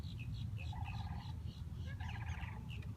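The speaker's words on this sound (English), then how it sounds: "can hear the sandhill cranes." Sandhill cranes call at a Florida wetland at sunset, repeated rattling, trumpeting calls in short bursts at moderate distance, faint over a low rumbling background.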